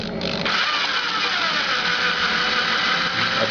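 Honda Steed 400 motorcycle engine starting up and settling into a steady, loud idle close by, with a rising whine early on; the bike has an oil pump knock fault.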